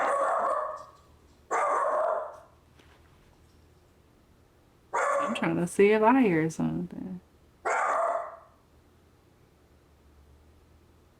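A dog barks in short bursts, several separate volleys with pauses between them, loud and close, with a person speaking briefly in between.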